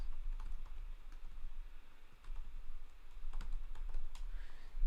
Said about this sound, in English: Let's type in Keller Williams.